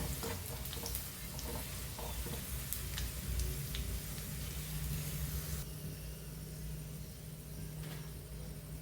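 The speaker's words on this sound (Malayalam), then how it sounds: "അതും കൂടി ഒന്ന് വറുത്ത് കോരി എടുക്കാം." Steady sizzling and crackling of raisins frying in hot oil, continuous and close, with faint clinks and background hum and no talking.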